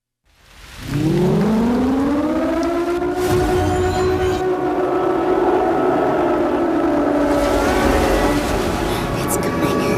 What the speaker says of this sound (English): There is an earthquake and a siren sounds.